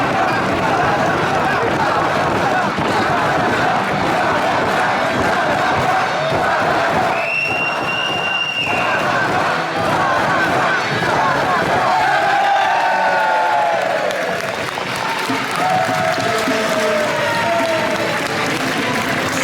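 A pro wrestling crowd cheers and applauds after the Masato Tanaka versus Mirko Mori match, a loud, continuous roar of clapping and shouting with chants and whistles rising partway through.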